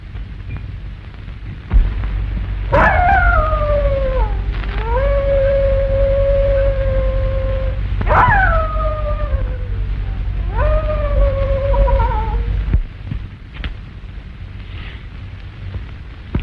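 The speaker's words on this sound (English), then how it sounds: "I wish you'd stop that awful howling" A long wavering howl rises and falls in drawn-out wails with breaks between them, loud over a low steady rumble in an old 1935 western.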